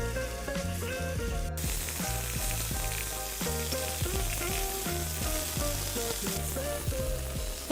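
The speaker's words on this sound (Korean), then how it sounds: "팬에 기름을 두르시고요. 고기를 노릇노릇하게 구워줄게요." Beef shank sears in an oiled pan for a Japanese-style soup curry, a steady sizzle running throughout under a layer of background music with rhythmic tonal notes, no voices.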